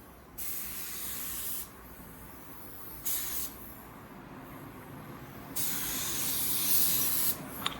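A paint spray gun lays a wet coat onto a panel in several bursts, each a loud close hiss that starts and stops abruptly, with quieter gaps between passes.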